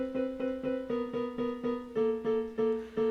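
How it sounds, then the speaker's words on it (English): A harsh two-note piano interval hammered repeatedly in quick, steady succession, about a dozen strikes, close and clear. "That's very dissonant and irritating to the ears."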